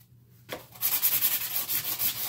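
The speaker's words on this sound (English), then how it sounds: "I'm going to want to sand it a little bit" Hand sanding the top face of a Seydel Saxony harmonica slider, a steady close rhythmic scrubbing with regular back-and-forth strokes that starts after a brief quiet moment and continues evenly.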